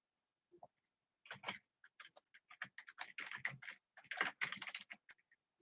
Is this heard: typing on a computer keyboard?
yes